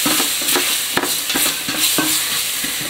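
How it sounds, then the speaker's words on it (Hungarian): Onion sautéing in a pan with a spoon scraping and stirring in quick, close, regular strokes over a continuous loud sizzle. "Jöhet hozzá a hagyma. Egy picit futatom meg."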